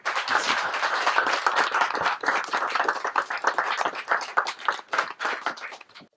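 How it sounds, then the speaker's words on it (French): An audience at a film presentation breaks into sustained applause, a dense, steady crowd of clapping that swells and then gradually thins out toward the end. "Je vous demande à vous-même de vous applaudir"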